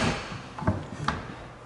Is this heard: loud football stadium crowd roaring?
no